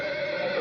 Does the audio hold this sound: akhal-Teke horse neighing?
yes